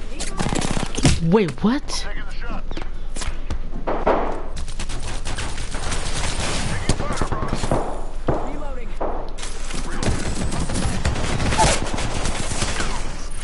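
Gunfire in the video game Apex Legends: rapid automatic bursts and scattered single shots with thuds, loud and nearly constant, while a player talks over it.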